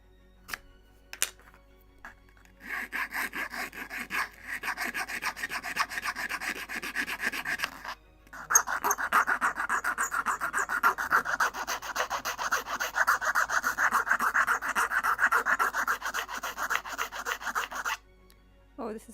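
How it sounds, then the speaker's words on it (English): Hand sanding of a small wooden part for a 1:76 scale Mayflower ship model kit, close-up repeated rasping rubs in two long bursts separated by a short pause, with no talking. "More sanding."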